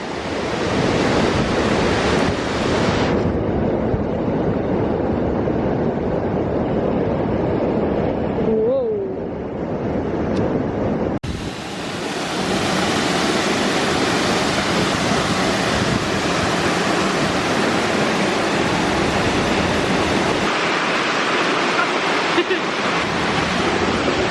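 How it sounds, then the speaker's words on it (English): Steady roaring rush of a large waterfall in North Wales, loud and close, with wind buffeting the microphone; a brief voice cuts in midway. "That was the biggest waterfall in Wales."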